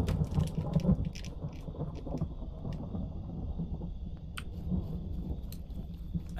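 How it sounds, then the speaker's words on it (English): Rumbling thunder and a steady rain wash from the video game Tvö fill the whole stretch at a fairly constant level, with occasional brighter crackles and nobody talking. "the thunder's calming"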